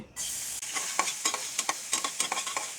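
Chopped garlic sizzling in a little soybean oil in a pan, a steady bright hiss with repeated spatula scrapes and stirs punctuating it, close and alone with no voices.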